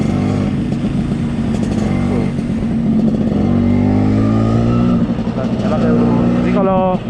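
A 1976 Vespa Super scooter engine putters and revs during a test ride, a steady close two-stroke drone that rises and falls, with someone talking over it.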